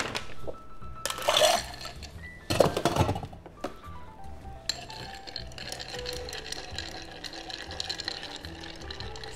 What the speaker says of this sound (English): when you stir down a cocktail